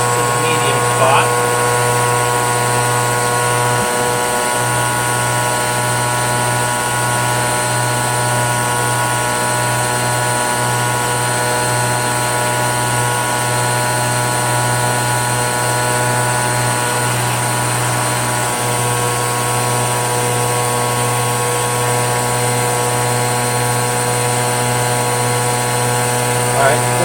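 Rainbow D3C vacuum fitted with a power nozzle, running at medium speed: a steady, loud motor whine with a strong constant hum that holds unchanged throughout, close by.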